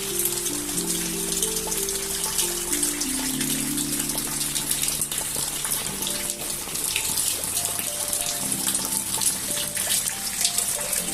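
Heavy rain falls and splashes into buckets and a basin set out to collect it, a steady close gush with dripping and pattering layered over a faint low tone, continuous throughout.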